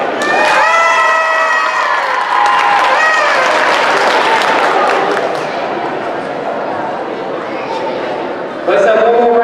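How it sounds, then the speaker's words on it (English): A gym crowd at a high school volleyball match between Lovington and Tatum claps and cheers loudly and continuously for a 2021 Lovington senior, with shouts and an announcer's voice over the applause. "Let's have one more round of applause for your 2021 Lovington seniors."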